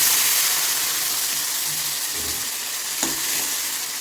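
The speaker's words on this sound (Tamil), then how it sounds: "நம்மளோட கடுகு உளுந்தம்பருப்பு நல்லா செவந்து வந்துடுச்சு. இப்போ நம்ம கருவேப்பிலை சேர்த்துக்குவோம்" Mustard seeds, urad dal and curry leaves crackle and hiss in hot oil for a South Indian tempering, a dense, bright sizzle heard up close, with one sharper pop near the end and no talking.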